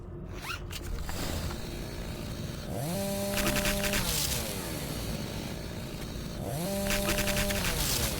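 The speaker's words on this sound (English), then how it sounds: "It's just because of how the chainsaw is angled, I keep thinking you have to look down to actually hit them." A chainsaw in the shooter game Doom 3: Phobos idles with a rough rattle, then revs up twice in strong whining bursts a few seconds apart, each settling back to a chugging idle.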